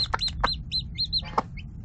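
A mother hen, a former battery hen, and her day-old chicks on a poultry farm, with rapid high chick peeps repeating over a few short low clucks, close by.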